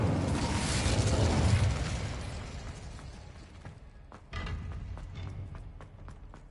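An Incendio fire spell in Hogwarts Legacy bursts out as a loud roaring whoosh, then fades into crackling pops and sharp ticks. A second, softer flare rises near the end.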